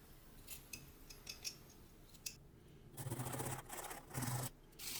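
A knife scrapes and slices through small whittled wood, cutting a tiny carved figure free from its base, with short rasping strokes growing louder in the final seconds.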